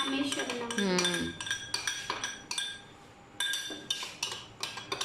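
A spoon clinks repeatedly against a cup while coffee is stirred, with bright metallic taps in an uneven rhythm and a short voice-like tonal sound near the start.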